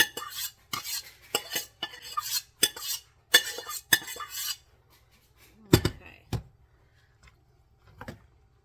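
A spoon scrapes cooked pinto beans out of a pot in a series of quick metallic scrapes and knocks, then a few sparse, heavier clanks after a pause.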